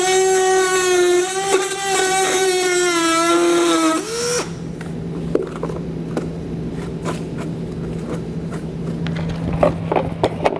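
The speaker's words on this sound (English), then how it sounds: "We're going to be using a Dremel tool and just cutting it off on the outside" A high-pitched Dremel rotary tool cutting a plastic ring whines with shifting pitch for a few seconds, then gives way to a steady hum with scattered clicks and rattles.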